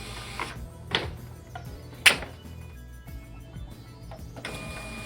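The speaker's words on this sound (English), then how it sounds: "Press Feed to test calibration." A Zebra ZT411/ZT421 label printer feeds labels during calibration, giving short mechanical whirs and clicks with a sharp snap near the middle, close and fairly quiet, with no voices.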